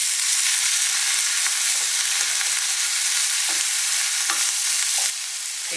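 Rice vermicelli tossed in a hot wok with fish paste, a loud steady frying hiss broken by repeated scraping strokes of a spatula, without talk.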